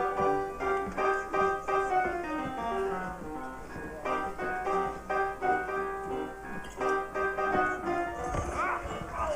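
Horse hooves clip-clop in a steady trotting rhythm in the game Red Dead Redemption, with snorts and a whinny over a soft musical background.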